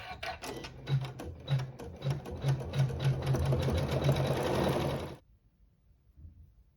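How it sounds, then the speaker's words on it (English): A sewing machine runs a satin stitch on fabric, with fast, even mechanical stitching that starts in quick bursts and then settles into a continuous close whir for about five seconds before stopping, with no talking. "we'll sew the satin stitch on fabric 4 using a thread that matches our fabric"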